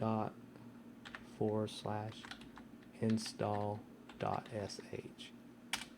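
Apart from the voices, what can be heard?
typing a password on a computer keyboard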